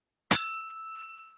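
A small bell fixed to the top of a whisky bottle is struck once, giving a bright, close ding that rings on and slowly fades.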